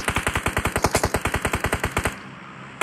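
Automatic rifle fire in the mobile battle royale game PUBG Mobile, a rapid even burst of about twenty loud shots, then a brief pause and one more shot.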